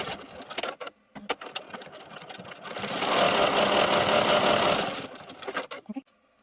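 An embroidery machine stitches a Cocomelon design onto a T-shirt, starting with stuttering bursts of needle clatter, then running into a steady fast mechanical chatter for a couple of seconds before stopping with a few final clicks.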